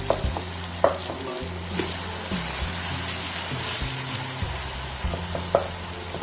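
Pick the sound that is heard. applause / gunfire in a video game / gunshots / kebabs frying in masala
kebabs frying in masala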